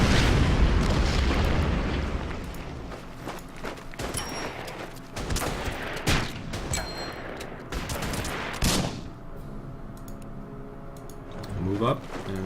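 Artillery fire and explosions in the World War II strategy game Order of Battle: Panzerkrieg, with heavy booms and rumbling blasts rolling one after another over a dense, continuous battle din, and voices underneath.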